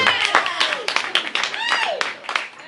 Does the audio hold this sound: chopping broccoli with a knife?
no